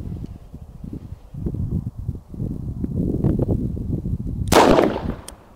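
A .22 Magnum mini revolver fires point blank into ballistic gel, one sharp loud crack standing out near the end after several seconds of rustling and handling noise.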